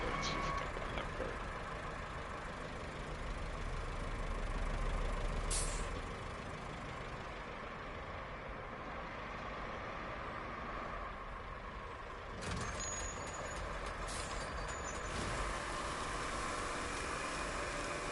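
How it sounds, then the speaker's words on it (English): A cargo truck engine rumbles steadily in the Roadcraft video game, with sharp hissing air brake releases breaking in partway through and faint talk underneath. "Alright, I'll drive a cargo truck."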